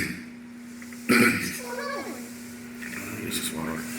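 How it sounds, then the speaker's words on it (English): A person coughs sharply once during a mukbang meal at home, choking as coffee goes down the wrong way, followed by a rough throat-clearing sound and nearby talk. "I'm just coughing."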